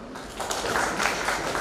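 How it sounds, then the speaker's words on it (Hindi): Applause from the audience at a Hindi poetry gathering, a moderate burst of hand clapping that rises after a brief quiet start and continues steadily. "तालियां"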